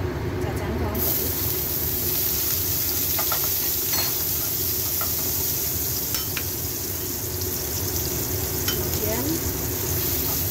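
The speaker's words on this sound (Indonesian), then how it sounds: "panaskan wajan, kasih minyak, tumis cacahan bawang putih" Steady sizzling and crackling of chopped garlic sautéing in hot oil in a wok, with occasional stirring clinks and a voice speaking over it.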